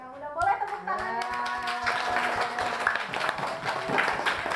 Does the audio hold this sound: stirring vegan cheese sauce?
no